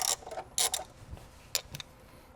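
An 8mm socket wrench loosens a ground bolt beside a car radio in a 2025 Toyota 4Runner, giving a few short, close metallic clicks and ratcheting creaks in quick bursts.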